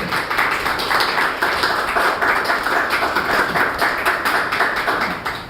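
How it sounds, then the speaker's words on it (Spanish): An audience at a panel discussion welcomes a guest speaker with loud, steady applause, dense close clapping that holds for about five seconds before beginning to taper, with no talk over it. "Les pido por favor un aplauso para nuestro invitado."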